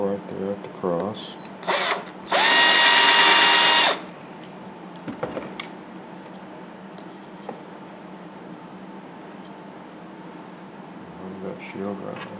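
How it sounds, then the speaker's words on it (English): A handheld power drill with a 1/8 inch bit bores a hole through a wooden carving of a Native American bust with a shield. The drill whirs loudly in one burst of under two seconds, with quieter handling noise and a voice before and after. "and drill me a hole right there at the cross."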